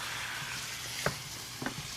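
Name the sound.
curry ingredients sizzling in a pan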